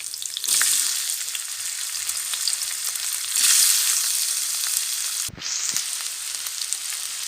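Potatoes (aloo) sizzle and fry in hot oil in a pan, a steady loud hiss that swells at two points as pieces go in, with a brief clatter near the end.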